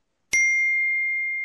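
A single bright phone notification ding strikes sharply and rings out with a long, clear sustained tone, heard alone in a quiet room.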